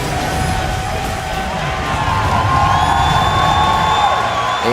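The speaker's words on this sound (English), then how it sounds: "The fans cheering behind them." A large esports crowd cheers loudly and steadily after Team Solo Mid wins a League of Legends playoff game, with whoops and shouting blending into a dense roar.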